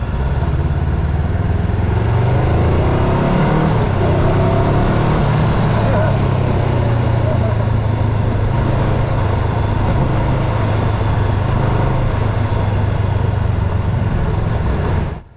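A Honda CBR500R motorcycle on a test ride, its engine droning steadily and loudly throughout with wind rush, no pauses, until it cuts off at the very end.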